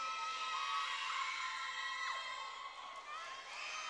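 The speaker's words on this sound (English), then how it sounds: "So a rather subdued crowd" Crowd at a high school basketball game between South Torrance and Leuzinger, a subdued, steady murmur of cheering and shouting with scattered whoops, continuous throughout.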